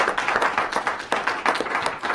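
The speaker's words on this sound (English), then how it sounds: "So they're going to get the crowd applause." Audience clapping at a university business plan competition, a short burst of lively, fairly close applause with uneven rhythm.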